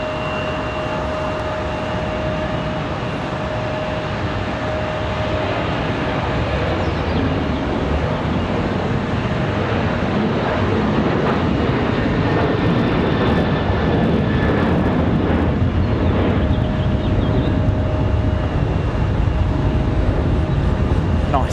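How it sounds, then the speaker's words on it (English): A Delta airliner departs Raleigh Durham International Airport with a loud, continuous jet engine roar that builds steadily throughout, while people talk nearby. "Nice Delta departure."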